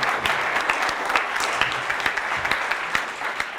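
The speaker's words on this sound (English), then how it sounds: "so give him a round of applause too." Audience applause at a send-off event for Pan American Games athletes, held at a YMCA: a sustained, even wash of many hands clapping together, with scattered sharper individual claps standing out.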